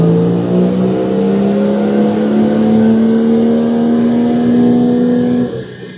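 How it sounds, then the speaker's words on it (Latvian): A car engine on a dyno in fifth gear, floored and revving up toward maximum RPM with a loud, steadily rising tone that climbs smoothly before dropping off at the end. "5. pārnesumā nospiedīsim grīdā, aizbrauks līdz maksimāliem apgriezieniem"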